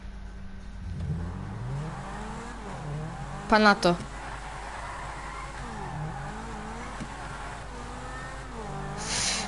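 A Zentorno sports car engine in the video game GTA revs briefly and loudly mid-way, with a low engine drone and a rising whine near the end, while people talk over it.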